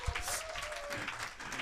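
Audience applause at a Washington peace forum talk concert welcoming Kaesong Industrial Complex business leaders, a dense, steady wash of clapping through the short clip with a faint tone underneath.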